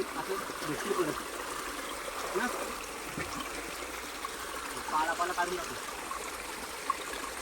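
A river flows steadily in the background, a soft continuous rush and trickle of water, with voices talking intermittently over it outdoors near fields.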